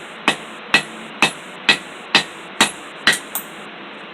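A hammer strikes a hot cut tool into hot metal at a forge, eight sharp ringing blows at an even steady rhythm, close and loud with no talking.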